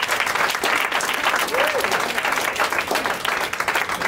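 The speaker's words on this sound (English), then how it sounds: "can we stand, give a massive round of applause to Anne Murray." An audience at a Startup Grind Cape Town evening stands and applauds a guest speaker, with dense, steady clapping filling the room for about four seconds and a few voices faintly audible through it.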